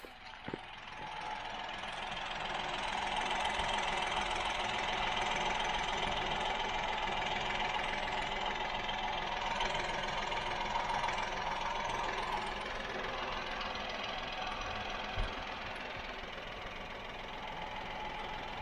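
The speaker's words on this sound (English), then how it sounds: "let's have a little listen to the engine" A Toyota Aygo's small engine idles steadily and evenly, a smooth continuous hum with a faint mechanical tick, heard up close with no talking.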